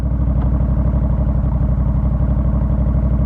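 A Honda Rebel 1100 motorcycle idles close by while being walked onto a trailer, its engine holding a steady, even low throb with a rapid regular pulse and no revving.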